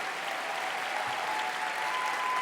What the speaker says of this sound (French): On peut l'applaudir s'il vous plaît. Plus fort que ça pour Pénélope,